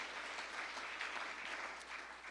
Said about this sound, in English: You can applaud them too.